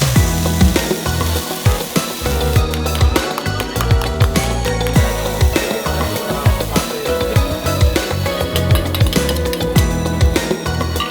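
Yamaimo yaki and okonomiyaki cook on a grill at a Japanese island street food stall, with a steady sizzle under frequent sharp metallic clinks and scrapes of spatulas, close and busy throughout.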